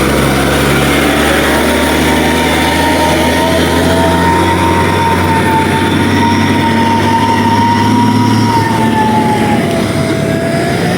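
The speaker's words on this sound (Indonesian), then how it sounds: "1 unit truk tangki lagi bosku." A heavy tanker truck labours up a steep hill road at Sungai Karas, its engine drone loud and continuous with a rising whine for the whole stretch, close by and unbroken.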